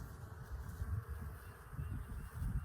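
A steady, fairly faint drone of honey bees buzzing around a beehive in Plant City, Florida, with a low hum that swells and fades in soft pulses.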